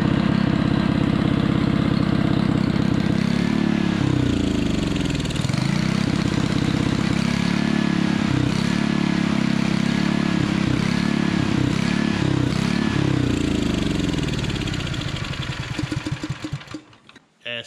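A Honda water pump engine runs loud and close with a steady idling putter, its note rising and dipping for several seconds before it sputters, surges unevenly and dies near the end.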